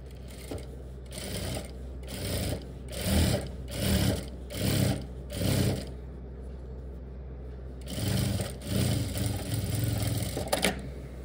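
A sewing machine runs stitching a strip onto formal pants, in several bursts of steady fast whirring separated by short pauses, with a longer gap near the middle before two more runs; close and fairly loud, no talking.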